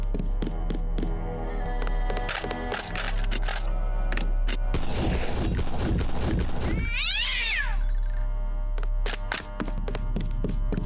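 A cat meowing in the video game Deus Ex, a drawn-out wavering meow standing out amid clattering game sounds and sharp percussive hits, fairly close and loud.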